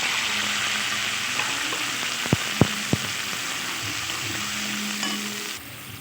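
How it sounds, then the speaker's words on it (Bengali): Spice masala with cumin sizzles steadily in a hot pan while being stirred, a constant frying hiss broken by three quick sharp scrapes of the utensil, close and fairly loud. "এবার মশলাটা একটু নেড়ে নিচ্ছি"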